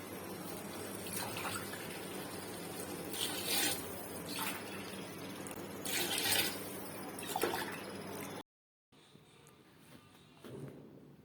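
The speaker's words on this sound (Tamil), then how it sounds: "தண்ணி ஊற்றுறேன்." Water pours steadily into a pot while a mushroom dum biryani is being made, a continuous splashing rush with a few louder surges, close by, ending in a brief cut and quieter handling sounds.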